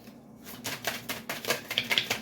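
Tarot cards being shuffled by hand, a series of quick papery riffling bursts with sharp clicks, close and fairly quiet, with no talking.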